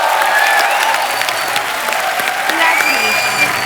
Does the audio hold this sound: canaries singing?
no